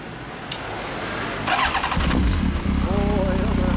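Motorcycle with an aftermarket TSR exhaust starts up and revs repeatedly, loud and close, with the engine note rising and falling over a steady idle rumble; a voice speaks briefly near the start.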